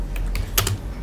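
A few quick keystrokes on a computer keyboard, light clicky taps in a short irregular run, close and clear with no talking.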